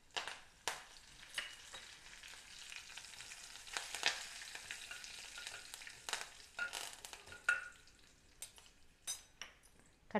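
Curry leaves sizzle and crackle in hot oil in a pan while beetroot poriyal is being prepared, a quiet, continuous frying hiss with occasional sharp pops and stirring scrapes.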